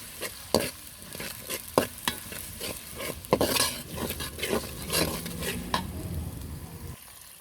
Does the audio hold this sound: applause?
no